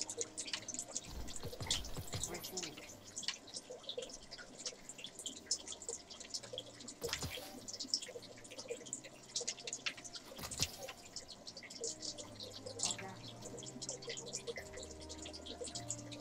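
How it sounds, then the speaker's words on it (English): Water drips and splashes in a steady, irregular patter, quiet and close, with a few louder splashes standing out over faint background hum. "it's also annoying when I need the dock to be there to stop the water from making noise like that"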